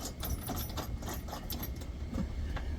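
Bolts being tightened on the running board spacers of a 2000 Ford F-150 Lariat, a quiet, steady mechanical whirring with a faint rhythmic clicking from the tool, close by and continuous.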